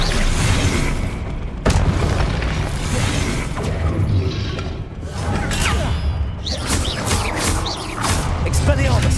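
Confringo blasting spells explode in the Hogwarts Legacy video game, with loud booms and crashes over a dense, continuous game soundscape of swooshes and rumbling impacts, including a sharp burst early on and a cluster of hits near the end.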